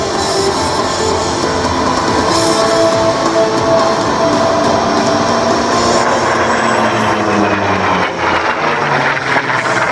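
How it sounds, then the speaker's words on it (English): A Chance Vought Corsair fighter plane flies at the Wings Over North Georgia airshow in Rome, Georgia, its loud, steady piston-engine roar droning continuously and shifting slightly in pitch as it passes. "the engineers at Chance Vought Aircraft designed an airplane that was not only fast, but highly maneuverable"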